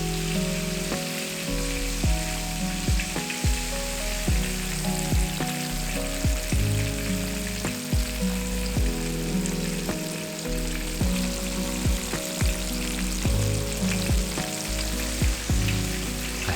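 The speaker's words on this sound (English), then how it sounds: "be careful when deep frying anything with moisture." Pork ribs coated in prawn paste deep frying in hot oil at about 350°F, a steady loud sizzle and bubbling crackle running throughout with no talking.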